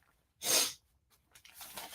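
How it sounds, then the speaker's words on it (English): A single sharp human sneeze bursts out close and loud, followed by a short, quiet breath or sniffle. "I can't stop sneezing"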